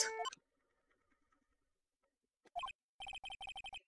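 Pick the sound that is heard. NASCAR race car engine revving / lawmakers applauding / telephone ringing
telephone ringing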